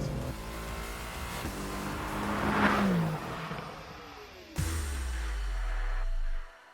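A Mercedes-AMG GT R engine revs hard and roars, rising then falling, followed by a second loud surge that holds steady before cutting off abruptly.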